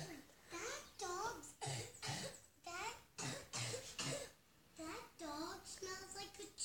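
Someone talks in bursts of high-pitched speech, with a few short cough-like sounds mixed in, close to the listener.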